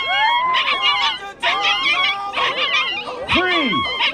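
Puppies bark, yip and whimper in quick overlapping high-pitched bursts close to the microphone, with one rising-falling whine near the end, while people talk in the background.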